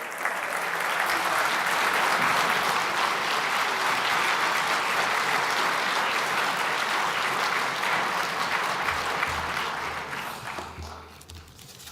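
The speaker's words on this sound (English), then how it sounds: "Please give him a warm round of applause." Conference audience applause welcoming the Taoiseach at the Global Ireland Summit, a loud, full hall of clapping held steady for several seconds before tapering off near the end.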